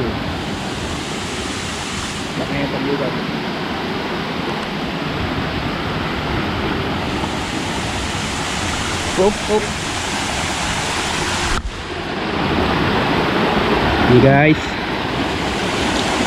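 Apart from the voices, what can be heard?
small waterfall flowing on hiking trail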